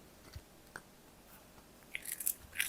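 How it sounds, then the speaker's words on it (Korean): A cat bites and crunches dried smelt treats scattered as a topping on its food, faint close crisp crunches, sparse at first then quicker and denser toward the end. "토핑으로 얹어줬던 열빙어 트릿은 식감이 바삭바삭해서 그런지 엄청 맛있게 먹더라고요"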